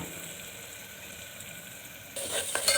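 Turmeric and chili powder fry in hot oil in a pan for mutton curry, a steady soft sizzle that turns louder and brighter near the end.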